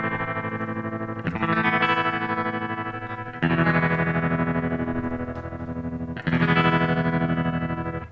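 Electric guitar runs through a Boss TR-2 tremolo pedal set to a fast rate and medium depth, so sustained strummed chords pulse in a quick, shallow volume wobble, with three strums each left ringing, loud and close, no voices.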